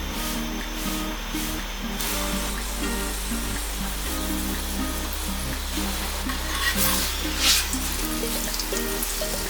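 Potato paratha frying in ghee on a flat pan, a soft continuous sizzle under a steady low background hum, with light scraping as it is flipped, no talking.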